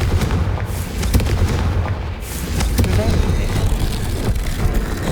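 A blast spell explodes in the Hogwarts Legacy video game as a loud, sustained rumbling boom that fills the whole stretch, with a voice calling out over it.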